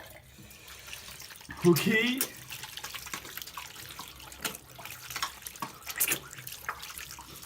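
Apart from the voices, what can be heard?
water running from tap while rinsing face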